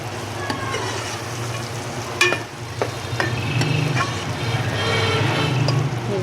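Tomato and turmeric masala stirred in a pan, a close sizzle with scraping and clacking spoon strokes, a few sharper knocks in the middle.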